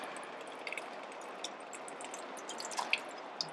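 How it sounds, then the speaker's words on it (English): Water dripping and trickling from a small hole punched in a plastic tofu package, faint, sparse drops and little splashes scattered irregularly over a quiet background. "as you can see, there's lots of water. It just spills out all over the place."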